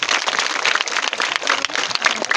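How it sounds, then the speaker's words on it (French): Applause from an audience at a school flag-raising and award ceremony, a dense steady patter of many hands clapping throughout the short stretch without pause. "Applaudissez pour lui, s'il vous plaît."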